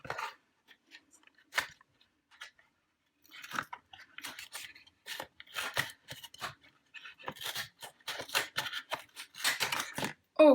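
Scissors snip and crunch through the cardboard and plastic of a small Pokémon box, close and sharp, in irregular bursts that grow busier toward the end, with quiet pauses between cuts.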